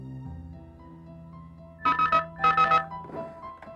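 A telephone rings in two short, loud bursts of rapid trilling after a low held tone, with a fainter third ring trailing off.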